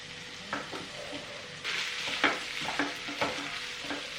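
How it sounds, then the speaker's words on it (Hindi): Mashed potatoes hit a hot pan with turmeric and fry with a steady sizzle, while a spatula stirs them in repeated scraping bursts throughout. "और इसे फ्राई कर लेंगे अच्छे से। अब मैं इसमें डालूंगी आलू जो मैश किए थे।"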